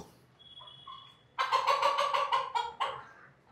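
Laying hens on a rooftop farm give a loud burst of close clucking and squawking calls after a quieter stretch with faint higher tones, the hens' voices layered and overlapping without human speech.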